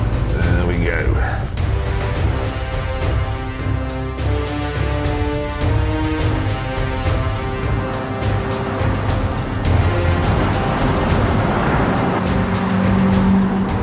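A Lotus car driving with a motorhome mounted on its roof, a loud, steady engine drone with shifting tonal pitch and road noise, close and continuous, with voices talking over it.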